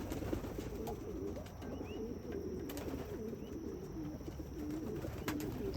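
Racing pigeons being let out of their loft, soft repeated cooing from several birds close by, continuous over a faint outdoor background.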